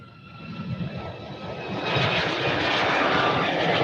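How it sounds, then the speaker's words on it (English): A Boeing 737 jet takes off from runway 24 left at Cleveland Hopkins International Airport, a steady broadband engine roar that swells and holds loud as the airliner accelerates, heard from a distance outdoors. "Streaking down a 737. Taking off 24 left."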